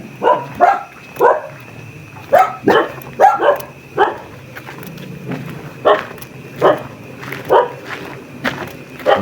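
Outdoors where many dogs roam, a dog barks over and over at a moderate distance, about a dozen sharp barks in an uneven rhythm over low background noise.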